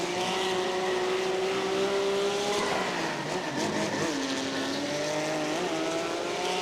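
A race car in iRacing holds a loud, continuous engine drone near at hand, its pitch sliding down and up through corners while the tires squeal and scrub faintly beneath, with no voices.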